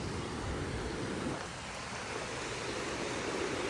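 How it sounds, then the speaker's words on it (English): River rapids at LaSalle Waterfront Park give a steady, dense rushing roar of churning water. The roar stays constant and fairly loud with no voices over it. "This is right where the rapids start to pick up."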